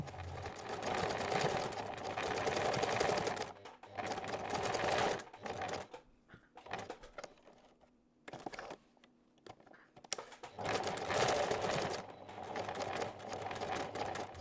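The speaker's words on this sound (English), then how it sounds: "I guess it just depends on how you feed it through the sewing machine" A sewing machine stitches the seam of a drawstring pouch in rapid mechanical bursts, running steadily for a few seconds, pausing through quieter handling sounds, then running again near the end.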